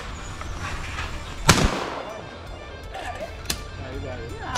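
A shotgun fires at a clay target at an outdoor trap range, one loud sharp blast with a decaying echo, followed by fainter distant shots from elsewhere on the range and some nearby talk.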